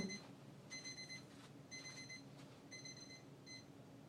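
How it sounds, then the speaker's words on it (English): A small kitchen-style timer alarm beeps in repeated short bursts, four clear pulses with gaps between them, faint and alone in a quiet room. "a nifty little timer. Except it sounds like a bomb."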